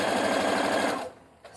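Sewing machine running a steady, fast stitch through knit fabric for bell-bottom leggings, loud and close, then stopping abruptly just after one second.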